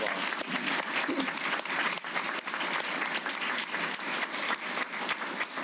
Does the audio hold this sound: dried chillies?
no